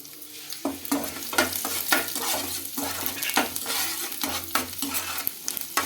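Finely chopped garlic cloves fry in a little oil in a pan: a steady sizzle broken by repeated sharp clinks and scrapes of a utensil stirring against the metal, close and fairly loud.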